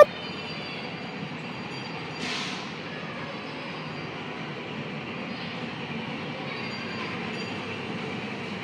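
Steady rumble of a small amusement park train at Kings Center rolling along rails, with a continuous low clatter and a brief squeal, heard from on board at moderate volume.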